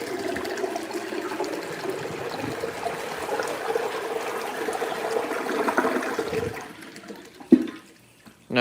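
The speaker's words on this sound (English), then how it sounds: "Here is the 1989 Universal Rundle flushing on a Mansfield flush tower" A 1989 Universal Rundle toilet flushing through a Mansfield flush tower: a steady rushing, gurgling flush of water for about seven seconds, then a sharp clunk and a brief drain-down to quiet with a final gurgle.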